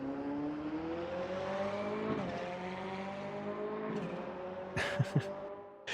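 Mercedes DTM 2021 race car in RaceRoom, its engine holding a strong harmonic whine that shifts pitch mid-run, ending with a couple of sharp clunks or gear shifts near the end.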